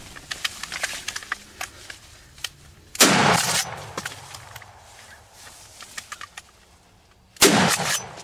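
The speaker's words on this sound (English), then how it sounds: "Take a shot at him." Two loud, sharp gunshots ring out in the woods during a wild turkey hunt, the first about three seconds in and the second near the end, each with a short echoing tail over quiet rustling.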